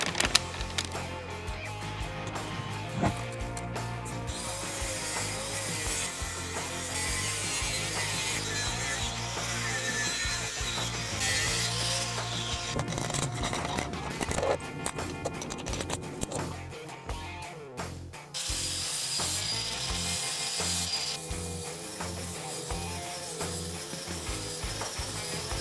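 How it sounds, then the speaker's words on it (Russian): A wide metal nut is cleaned and scraped in a workshop, with continuous dense rasping and scratching and irregular metallic clatter and knocks over about 25 seconds, fairly loud and close, with no speech. "Сейчас ее почистим, все лишнее уберем"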